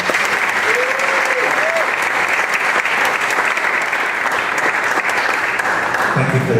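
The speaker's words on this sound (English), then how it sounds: "Let's give them a round of applause for this." Audience applause at a Universal Creative team panel discussion about Diagon Alley, steady and dense clapping from a crowd filling the room, continuous at even loudness throughout.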